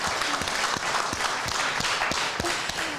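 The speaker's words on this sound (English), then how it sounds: "I understand that she's going to be Jade, we can applaud her." An audience at an evening event on international Geneva gives steady applause to contest winner Jade Worth, a dense, even wash of many hands clapping at moderate distance, with a few sharper individual claps standing out.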